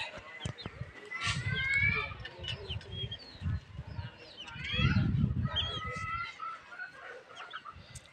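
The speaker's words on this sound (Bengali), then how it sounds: "এটা কবুতর।" Pigeons on a rain-wet rooftop coo in low, throaty pulses, repeated in several close bursts, with softer chirpy bird calls and rustling mixed in.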